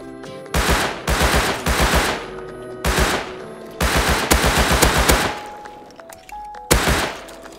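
Rapid bursts of Tommy gun fire in the survival game Rust, several loud automatic volleys of quick rattling shots separated by short pauses, with a few single cracks near the end.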